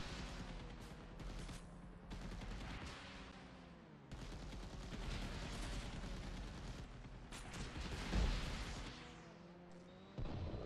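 Vehicle combat in the video game Diesel Guns brings steady gunfire with a continuous engine drone underneath, fairly faint and unbroken across the stretch, with a louder burst near the end.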